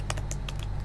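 Brief run of keystrokes typed on a computer keyboard, a handful of quick close clicks in under a second, crisp and distinct over a low steady hum.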